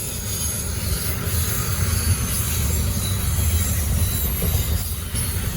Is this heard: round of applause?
no